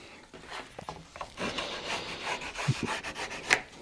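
A truck part is ground and trimmed by hand, producing close, rough rasping and rubbing strokes in an irregular rhythm, with a couple of sharp knocks near the end.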